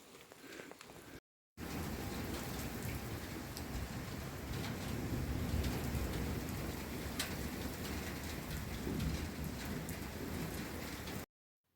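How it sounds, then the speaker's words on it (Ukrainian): Steady, dense rain falls on surfaces outdoors in a yard during a storm, a loud continuous hiss with patters of drops and low thunder rumbling beneath, after a short quiet start. "А, каплі дощу починають падати."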